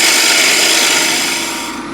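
A bowl gouge shears into a wooden bowl spinning on a lathe, making a loud, continuous scraping hiss that tapers slightly toward the end, with no talking.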